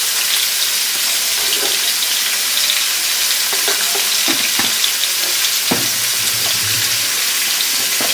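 Ground spices with salt and turmeric fry in a pan for khichuri, giving a loud, constant sizzle with scattered stirring clicks and scrapes throughout, close to the listener and free of speech.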